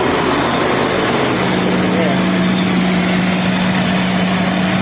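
A small engine with a Nikki carburetor idles steadily, its auto choke closed slightly so the RPM has risen; a constant low hum with a strong drone runs unbroken throughout.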